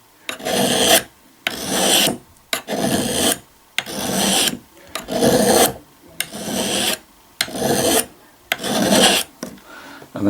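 A sharpened Damascus steel knife edge is worked with a rasping hand abrasive in about ten loud, regular back-and-forth strokes, each a gritty scrape separated by brief silences.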